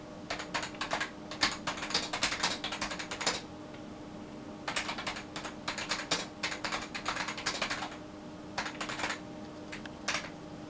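Keys clatter on a Windows 95 era computer keyboard in bursts of rapid typing separated by short pauses, close and moderately loud with a faint background hum.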